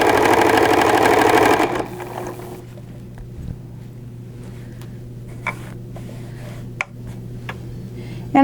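A sewing machine stitching fabric runs loud and steady for under two seconds, then drops to a low idle hum with a few faint ticks and clicks.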